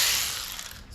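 A ratchet fitted with a 7mm socket works on the cab bolts of a 2019 Chevrolet Silverado, giving a steady, close, bright clicking rasp that fades slightly through the second, with no talking.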